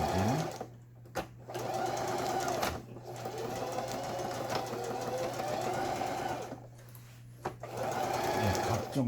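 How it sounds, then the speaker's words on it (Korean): A Janome 6019 sewing machine running a wide triple zigzag stitch, a steady loud mechanical whirr with rapid needle clatter, broken by a few short pauses and restarts, close up. "수리를 맡았더니 세발뜨기 바느질이 되겠습니다."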